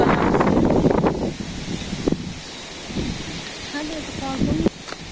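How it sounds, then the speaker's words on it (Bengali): Rain falls outdoors in a village during a storm, with broadband noise and gusts, low rumbling swells that fit distant thunder, and people talking over it in the first seconds. "এই যে বৃষ্টি আর কি সুন্দর বৃষ্টি"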